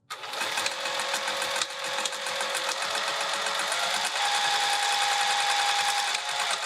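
A sewing machine runs continuously, stitching down the side of a fabric roll-up wrap with a close, steady mechanical whir that shifts pitch slightly midway and carries on without pause.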